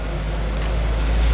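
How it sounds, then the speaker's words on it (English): Garbage truck on a street in Mexico, heard from inside a passing car as a steady, loud low engine rumble with road noise, with no pauses or talk. "Up ahead, we got the garbage truck."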